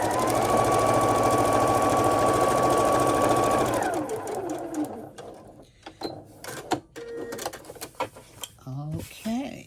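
A sewing machine runs in a steady loud whir while stitching quilt pieces, then stops, leaving handling clicks and a voice speaking.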